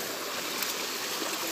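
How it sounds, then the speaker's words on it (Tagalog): Water from a spring by a river flows in a steady, even hiss and trickle, continuous and fairly faint, with no talking. "Yan na ang bukal."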